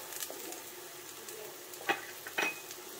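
Banana flower curry with coriander leaves being stirred in a pan: a soft low sizzle with a few sharp scrapes and clinks of the spoon against the pan.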